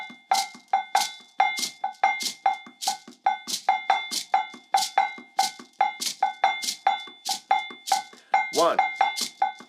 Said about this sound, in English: I'm going to play the bell softly.